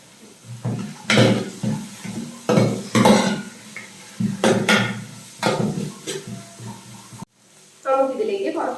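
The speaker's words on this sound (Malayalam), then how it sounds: "അതും കൂടി ചേർത്ത് നമുക്ക് നന്നായിട്ടൊന്ന് വഴറ്റി കൊടുക്കാം." Chopped coconut for pork ularthiyathu is sautéed and stirred in a pan. Loud, rhythmic scraping strokes repeat about once a second over a soft sizzle, with a brief pause near the end before the stirring resumes.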